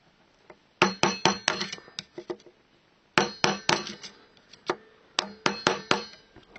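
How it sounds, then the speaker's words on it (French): Hammer blows flattening a washer on the variator of a Peugeot Vogue moped: two bursts of sharp metallic strikes, several quick loud taps each, close up, with a pause between bursts and no talk. "vous vous aidez d'un marteau, histoire de vraiment aplatir la rondelle"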